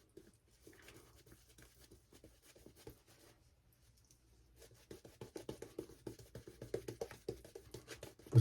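Straight razor scraping across stubble during a shave, a soft close rasp that starts faint and grows into a run of quick, rhythmic strokes in the second half, with no talk over it.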